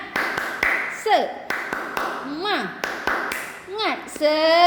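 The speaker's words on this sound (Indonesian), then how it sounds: "Mari kita sama-sama tepuk semangat." A class of fifth-grade children claps in a rhythmic pattern, sharp claps in sets separated by sliding, chant-like vocal calls, ending on a sustained cheer.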